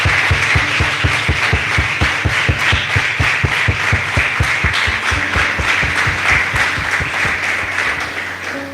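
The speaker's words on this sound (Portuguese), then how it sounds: "Aplauda ao Senhor se você crê" A church congregation claps in a fast, even rhythm, many hands striking together in steady repeated beats that carry on for several seconds, loud and full before slowly fading.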